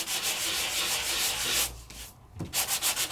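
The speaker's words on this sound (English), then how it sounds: "Now I can take my Sandit gadget and where there's a lifted area" A Sandit sanding gadget rubs over a lifted foil area on a scrapbooking die-cut, heard close as a loud continuous scratchy rasp, a brief pause, then quick rhythmic back-and-forth strokes.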